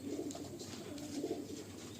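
Pigeons in a loft, lalsira and fulsira birds, give soft low coos that repeat in gentle murmuring bursts over a steady close background rustle.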